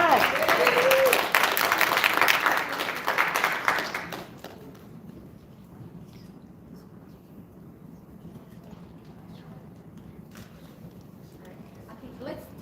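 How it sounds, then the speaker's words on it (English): Another round of audience applause at a China Day event in Detroit, loud clapping for about four seconds that fades into quiet room noise. "So, give another round of applause."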